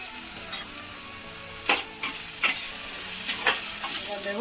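Chicken frying with soy sauce, sugar and chopped green chilli sizzles steadily in a pan while a spatula stirs it, with several distinct scraping strokes partway through, close and clear with no talking.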